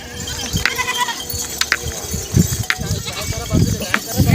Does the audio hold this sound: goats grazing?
yes